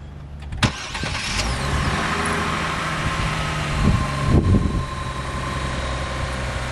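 A car engine starts by remote start, a sharp click and brief crank settling into a steady idle hum, with a couple of mechanical clunks as it runs, close by and without talking.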